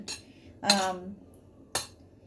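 A spoon knocks against a bowl three times while couscous salad with fish is mixed, giving short close clinks separated by pauses, with no talking.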